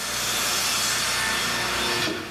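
A log runs through a wood-shaping machine in a rafter and floor joist shop, producing a loud, steady, broadband grinding and cutting roar that tapers off near the end.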